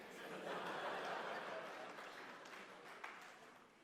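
Audience applause at a citizen athlete awards ceremony, a steady wash of clapping that swells early and then slowly thins out, with a few chuckles mixed in.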